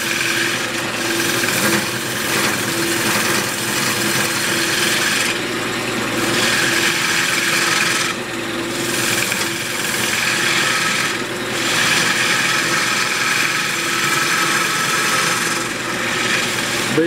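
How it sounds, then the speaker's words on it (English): Rough scraping and rasping of a woodturning tool hollowing out a spalted walnut vase on a lathe, a steady close cutting noise that swells and eases in repeated passes. "Now I want to come in about halfway and just start hollowing this out"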